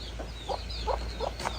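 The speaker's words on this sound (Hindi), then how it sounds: "और ये मुर्गी है" A hen with newly hatched chicks clucks in a village yard, giving a string of short, mid-pitched clucks about every third of a second, fairly close and steady over a low background hum.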